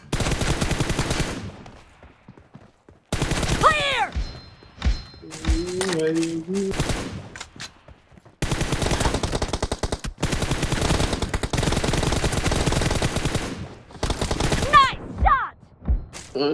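Rapid automatic gunfire in a team deathmatch video game, long loud bursts of continuous shots separated by short gaps, with a player's voice talking over some stretches.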